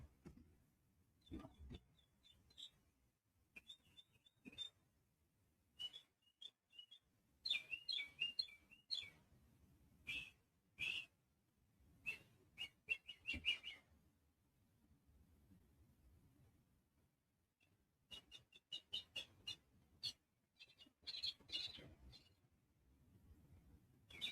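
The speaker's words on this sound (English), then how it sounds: "Oh, bird, you sound so pretty." Bird singing outdoors: clusters of high chirps and tweets come in repeated bursts with pauses between them, fairly close, over a low background hum.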